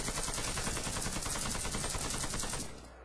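Rapid automatic rifle fire from an AK in the shooter game Warface, a dense unbroken burst of loud gunshots lasting nearly three seconds before cutting off.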